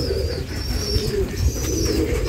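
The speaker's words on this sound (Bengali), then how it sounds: "এটা আম গাছ, কবুতরগুলো এই আম গাছের উপরে আছে" Pigeons coo softly from a mango tree, low murmuring calls over outdoor background noise, with faint chirps above.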